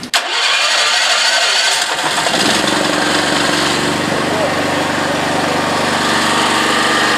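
An engine cranks briefly and catches, then settles into a loud, steady running rumble close by, continuing without letup.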